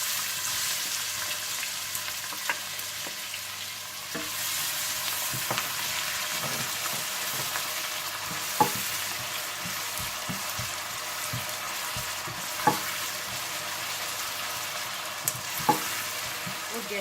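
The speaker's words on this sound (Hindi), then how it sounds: "आप इसमें प्याज डालकर हल्के से गोल्डन ब्राउन कर लें।" Onions fry with cumin in a pan, giving a continuous soft sizzle with scattered stirring clatters and a few sharper pops, close and steady throughout.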